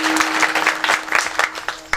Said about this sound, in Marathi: त्यांच्याकरता एकदा टाळ्या वाजवा